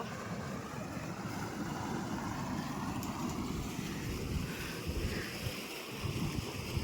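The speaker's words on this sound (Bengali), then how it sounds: "ভাটাতে স্রোত বইছে এত জোরে, শব্দটা জলের স্রোতের শব্দ" A strong ebb-tide current rushes through a river channel in the Sundarbans forest, a continuous loud roar of flowing water mixed with wind buffeting the microphone, with no speech.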